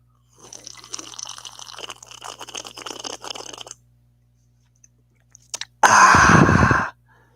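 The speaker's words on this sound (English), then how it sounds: "Hope that slurping was loud enough." A loud, deliberate slurp of liquid lasts about a second near the end, after several seconds of softer wet mouth and drinking noises and brief clicks.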